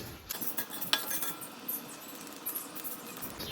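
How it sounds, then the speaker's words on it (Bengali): Moong dal dry-roasting in a pan for halwa, faint quiet ticks and small clinks as the lentils crackle against the metal, with a soft scrape or two, close and sparse with no speech. "এখানে দেখছো এরকম চিটচিট করে আওয়াজ হচ্ছে ডালগুলো দেখতে পাচ্ছ ফুটছে"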